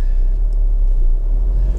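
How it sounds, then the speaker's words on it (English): A Honda HR-V drives past with a loud, low engine rumble that holds steady and close before easing slightly at the end. "That's my neighbour and his Honda HR-V."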